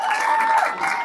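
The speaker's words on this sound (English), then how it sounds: "Let's have a big round of applause for the entire media" A crowd at a BC Super League 2024 event applauds the media, a steady dense wash of clapping with a thin sustained tone running through it.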